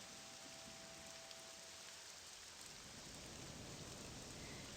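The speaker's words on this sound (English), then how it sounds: "and it's raining." Steady rain in the video game Morrowind, a constant even hiss of falling water with no talking.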